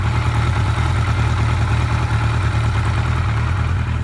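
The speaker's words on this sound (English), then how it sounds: "So now that the bike is warmed up, I've pushed the choke in and you can hear it running just smooth and fine." A warmed-up motorcycle engine idles steadily and evenly nearby with the choke pushed in, a smooth low rumble with a regular beat throughout.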